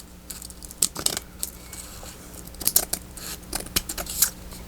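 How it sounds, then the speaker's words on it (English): Scissors cut a paper card apart nearby, giving a series of soft, irregular snips and crinkles over a few seconds with no voice. "I'm trying to cut the whole card apart."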